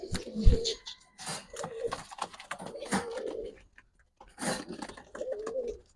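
Racing pigeons from a club loft coo in repeated low, throaty bursts at close range, broken by short pauses and some wing-flutter rustling, with no voices over them.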